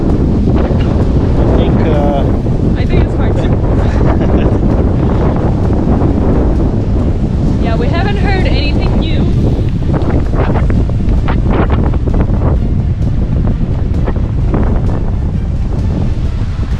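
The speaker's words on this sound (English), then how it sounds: "It's a little bit windy still" Strong wind from Hurricane Zeta roaring by the ocean at Riviera Maya, Cancun, a loud, steady, buffeting rush hitting the microphone throughout, with people talking faintly underneath.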